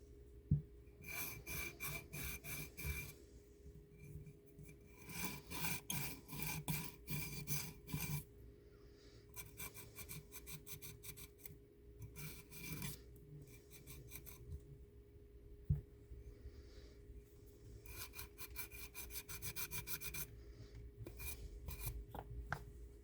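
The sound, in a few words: sanding a hydrocast eco pour mold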